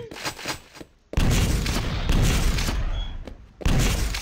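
Rocket launcher firing in a fast-paced video game, with loud booming blasts and explosions in quick bursts, separated by brief gaps of quieter game sound.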